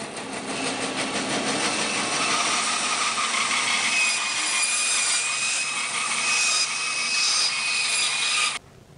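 Saw cutting a heavy cherry wood bowl blank down to size, a loud continuous rasping drone that holds steady for about nine seconds before stopping abruptly.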